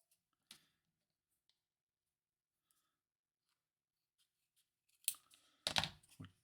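Scissors snipping material for a Moomin model pillow, a lone faint snip early on, then near-silence, then a burst of close, crisp cutting at the end.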